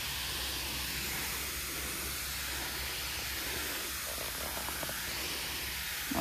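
Green bean plants in a garden are sprayed with fungicide from a sprayer, giving a steady broadband hiss that runs unbroken throughout at moderate level, with a low hum underneath and no talk.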